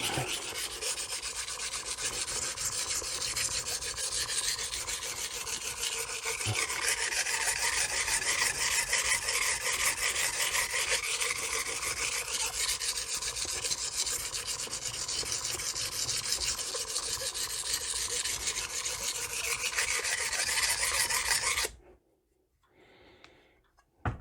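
A Magnacut steel 8-inch chef's knife is ground on a coarse Norton Crystolon stone, giving a steady, close, continuous rasping scrape with fine back-and-forth strokes for over twenty seconds, then stopping abruptly into near silence.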